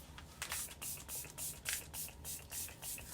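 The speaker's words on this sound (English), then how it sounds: "for setting spray, I'm using the e.l.f. Stay Up All Night Microfine Setting Mist." Repeated fine mist bursts from an e.l.f. Stay Up All Night Microfine Setting Mist spray bottle, about six quick hissing pumps in a steady rhythm, close and fairly soft with no talking.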